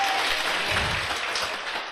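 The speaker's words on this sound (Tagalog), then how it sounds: "Palakpak kay ni Jesus." A church congregation claps together during an Ilocano-language sermon about Jesus, a dense, steady burst of many hands close by that runs for about two seconds and fades slightly at the end.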